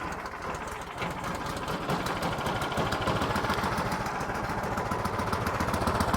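An Ariens snowblower's small gas engine runs steadily after a cold pull start, a loud, continuous rapid chugging close by with no talking.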